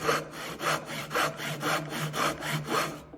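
A Japanese flush cutting saw with a 0.3 mm blade and universal teeth crosscuts hard ash wood in quick, even rasping strokes, about five or six pushes and pulls, close and clear before stopping.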